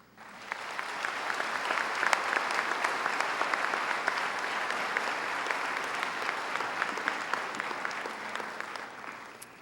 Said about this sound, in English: we give you grand applause